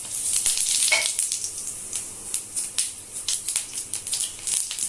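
Torn dried red chillies and cumin seeds crackle and sizzle in hot oil left over from frying fish, a close, bright, crackling hiss with rapid pops throughout.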